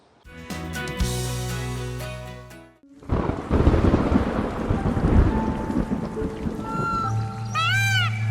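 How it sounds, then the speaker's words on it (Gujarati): The season's first monsoon rain falls in Gujarat with thunder. A short tonal musical passage gives way to a heavy, continuous rumble of thunder over steady, close rain. "મોસમનો પહેલો વરસાદ જ્યારે તરસતી ધરતી પર પડે"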